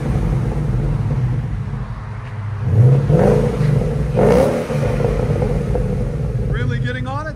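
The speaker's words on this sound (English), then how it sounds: "Ford Mustang GT convertible. This is what it sounds like with the X4s. This is with it, the valves open." Ford Mustang GT convertible with X4 exhaust and valves open, a deep idle rumble swelling into a couple of revs, while a person talks over it.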